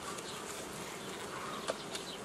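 Honeybees buzz around an open hive in an apiary, a steady, soft, continuous hum of many insects close by, with no talk.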